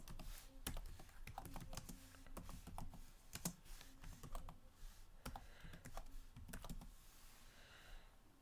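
Quiet, close-up typing on a computer keyboard as a code comment is entered, an irregular run of soft key clicks with a few louder taps and short pauses, no voices.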